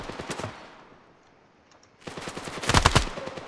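Gunfire in the mobile shooter Standoff 2 comes as close, loud bursts of rapid automatic shots, a short stuttering volley, a near-silent gap, then a longer and heavier burst.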